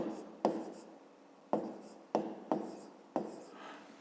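A math expression being written out by hand in a Grade 5 math exercise: several sharp scratchy strokes, each starting with a crisp tap and trailing off, spaced irregularly over a few seconds at close range.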